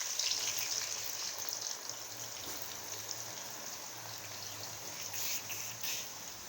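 Onions sizzle steadily in hot oil for frying tali hui payaz, a dense, continuous hiss with light crackle and no talk.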